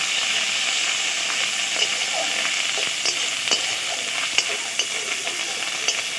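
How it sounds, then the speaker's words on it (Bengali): Tomato and ginger fry together in a pan for dry aloo dum, producing a loud, continuous close sizzle and hiss with frequent small pops and occasional stirring clicks throughout. "টমেটো আর আদা একসঙ্গে খুব ভালো করে ভেজে নেব।"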